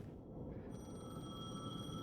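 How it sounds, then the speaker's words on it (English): A telephone rings in the video game Alan Wake 2, a faint, thin electronic ring starting just after a quiet opening and continuing steadily to the end. "That's a phone ringing, isn't it?"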